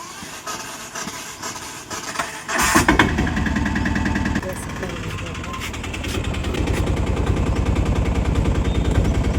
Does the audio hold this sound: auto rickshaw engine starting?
yes